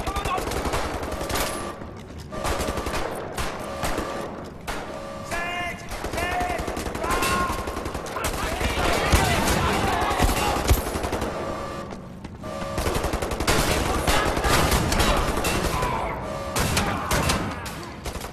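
Gunfire and shotgun blasts crack in rapid bursts in Wolfenstein: The New Order during a train sequence, dense and loud over a busy game soundtrack, with someone talking over the shooting.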